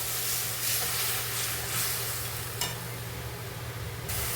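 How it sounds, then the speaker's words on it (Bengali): Spice paste frying with onions and a splash of water in a pan for prawn malai curry, making a dense steady hiss and sizzle with a faint low hum beneath and one brief clink. "পেঁয়াজের সঙ্গে মশলাটা যাতে জ্বলে না যায় আমি একটু জল দিয়ে ভালো করে মশলাটা কষিয়ে নেবো"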